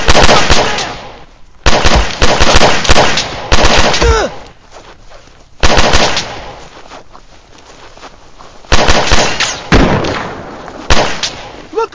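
Automatic gunfire in a video game battle against enemy troops comes in loud, crackling bursts, with short lulls between the volleys.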